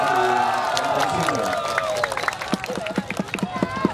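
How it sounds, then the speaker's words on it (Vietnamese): A crowd at a lion and dragon dance contest in Vĩnh Long cheers and murmurs, with a voice carrying over the start, then scattered sharp claps break out and grow more frequent toward the end. "gửi quý vị cho tràng pháo tay để khen thưởng hai đội"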